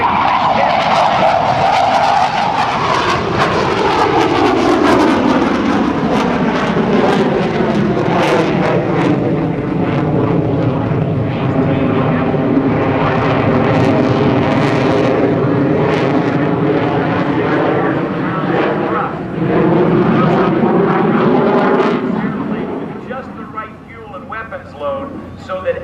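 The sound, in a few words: F/A-18C Hornet fighter jet with GE engines flying at airshow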